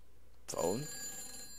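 Telephone in the horror video game Silent Hill 4: The Room, heard as one sudden bright bell ring with a ringing tail that fades out, moderately loud after near silence.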